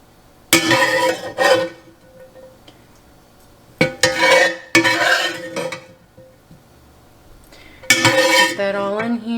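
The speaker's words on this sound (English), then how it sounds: "Start scooping the turkey in." Ground turkey scooped from a pan into a thick pot of turkey chili, heard as three bursts of metal spoon clatter and scraping against cookware, separated by quieter pauses, close and fairly loud.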